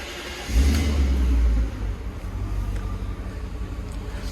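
A 1993 BMW E34 530i V8 cranks and fires up with a loud, deep surge of revs lasting about a second. It then settles into a steady, rumbling idle, heard up close with no talking.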